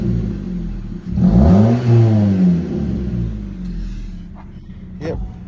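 A Ford Focus engine with a newly replaced, louder exhaust revs once in a strong rising sweep, then settles back to a rumbling idle. It sounds close and loud, with a couple of faint knocks near the end.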